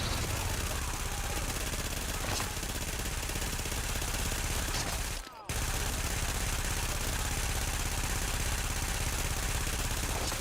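Video-game gunfire from The Division, a dense, loud, almost unbroken wash of rapid shots that cuts out briefly about halfway through, then resumes at the same intensity.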